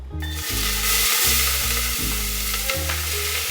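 Sweet Vidalia onions fry in olive oil with a steady, loud sizzle, while a low droning hum underneath starts and stops in repeated stretches.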